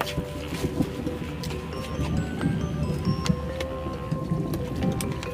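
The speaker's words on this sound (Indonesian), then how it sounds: "Hujan nih." Steady rain patters on surfaces outdoors, a soft continuous hiss with scattered drops and faint background clatter, moderately quiet throughout.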